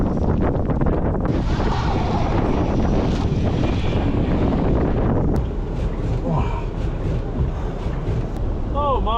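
Strong wind buffets the microphone outdoors in snowy conditions, a loud continuous roar and rumble that eases slightly toward the end, where faint chirpy sounds appear.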